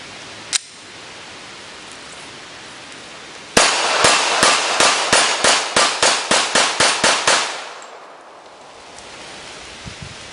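Glock 21 Gen 4 pistol fired at a range: one isolated shot, then a rapid string of about a dozen loud, sharp reports in quick succession, followed by quiet.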